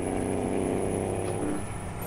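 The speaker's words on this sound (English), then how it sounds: "I know I shouldn't leave the jake brake on" A truck's jake brake in American Truck Simulator, heard as a loud, steady engine rumble with low pulsing that holds for about two seconds, with no speech.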